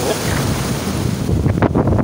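Heavy surf roars continuously on the coast at Ternate, with wind buffeting the microphone, a wave surging louder near the end.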